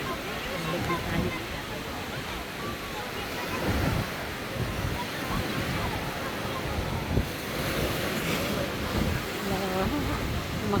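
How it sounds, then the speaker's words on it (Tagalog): Strong ocean waves break on the coast at Noja, Cantabria, in Spain, a loud, continuous wash of surf with rolling surges and wind buffeting the microphone, while people talk nearby. "Ayan, lakas ng alon."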